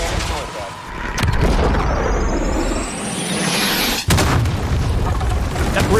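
A called-in artillery strike in the Call of Duty Modern Warfare video game: heavy booming explosions rumble continuously, with a sharp blast near the middle and a rising whistle overhead, loud and close.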